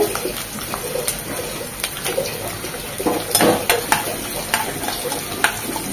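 Half a cup of chopped onion frying in oil in a pan for a chicken bhuna, a loud, dense crackling sizzle with repeated stirring scrapes and occasional clinks of a spoon against the pan, close up and continuous.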